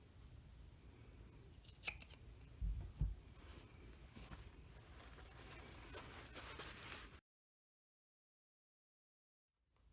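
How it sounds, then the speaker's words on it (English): Scissors trim the fabric corners of a sewn hip pouch, giving a few quiet, close snips and rustles before the sound drops to silence. "You can also trim these corners, but just be careful not to go too close to the stitching."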